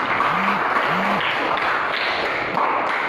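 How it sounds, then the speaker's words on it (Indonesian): Students in a seventh-grade classroom clap for a classmate, a brief, dense burst of applause filling the room throughout, with a couple of faint tonal squeaks underneath. "Tepuk tangan dulu."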